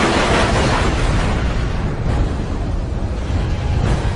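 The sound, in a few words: cannon fire and exploding jet aircraft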